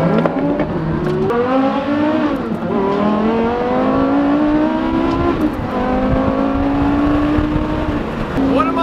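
A Porsche Carrera GT engine on the move, loud and close from inside the car, with a rising wail through repeated gear changes and falling pitch between shifts.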